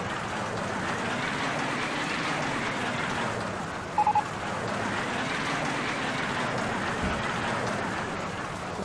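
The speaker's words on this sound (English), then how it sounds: "It started to rain." Rain in the park-building game OpenRCT2, a steady, even wash of rainfall that keeps up at a constant level, with a brief electronic beep partway through.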